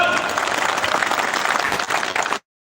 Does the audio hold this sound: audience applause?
yes